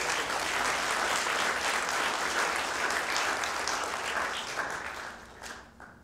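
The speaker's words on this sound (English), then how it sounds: "Please give them a round of applause." A town hall audience applauds with dense, sustained clapping that holds steady and then tapers off toward the end, with no speech over it.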